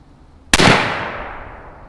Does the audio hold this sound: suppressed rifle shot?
yes